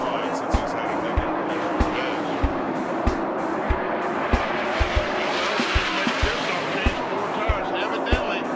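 Race cars lap the oval at Atlanta in a steady loud roar of engines and tire noise, with sharp rhythmic thumps recurring about every half second, while a commentator talks over the track sound.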